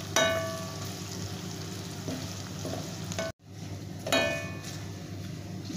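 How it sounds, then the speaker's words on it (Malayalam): Garlic and ginger fry in oil for a homemade fish pickle, giving a steady close sizzle with occasional stirring scrapes and a brief break partway through; no one speaks. "ഇപ്പോൾ നമ്മുടെ എണ്ണയിൽ കിടന്ന വെളുത്തുള്ളിയും ഇഞ്ചിയും ഒക്കെ നന്നായിട്ട് മൂത്ത് ബ്രൗണിഷ് കളറായിട്ടുണ്ട് ഏകദേശം."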